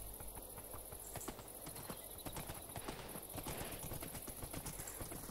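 Horse hooves clip-clopping in Minecraft, a quick irregular run of light clacks, faint and somewhat distant, with a brief whinny-like sound and no talking.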